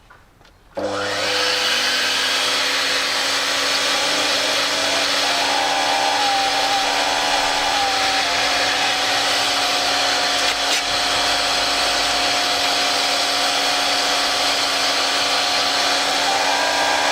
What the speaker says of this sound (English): this is an old one, the old vacuum cleaner we've had from it for ages